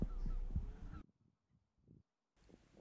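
Tundra bean geese in a field, giving a few faint, distant honking calls amid wind-buffeted outdoor ambience.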